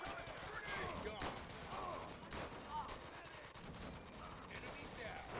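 Gunfire in the Easy Red 2 war game, faint sporadic rifle shots and bursts in the distance, with shouted voices throughout.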